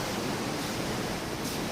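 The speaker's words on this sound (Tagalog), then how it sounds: "kaya lang grabe talaga yung alon" Strong ocean surf rolling in at a resort in Cebu on a gray, windy day, a steady broadband roar of waves close by with no voices.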